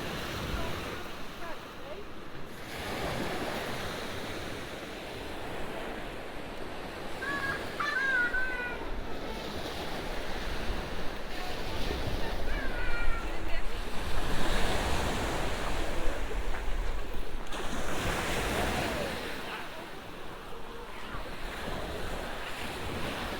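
Sea waves wash onto Watcombe Beach, Torquay in repeated swells, with wind buffeting the microphone and a distant bird calling briefly.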